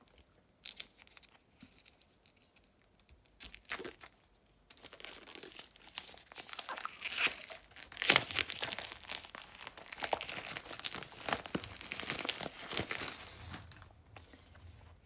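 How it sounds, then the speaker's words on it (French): Cardboard box of an oracle card deck being opened by hand, with close crinkling, tearing and rustling of packaging that grows busier and steadier in the second half, with no talking. "Donc, on va ouvrir la boîte"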